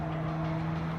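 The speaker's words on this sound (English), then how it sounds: "This car's meant to have, by the way, a simulated exhaust note." Simulated exhaust note of an electric car in Gran Turismo 7, a steady synthetic engine drone with a strong sustained hum, holding even and continuous for a second with no voices.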